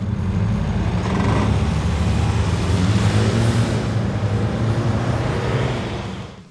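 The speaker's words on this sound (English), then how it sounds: "who were we to say no to some real-world acceleration testing of the Navara?" Nissan Navara Pro 4X pickup accelerating hard down a drag strip, a loud sustained engine roar with rising tone that holds steady and then fades away at the end.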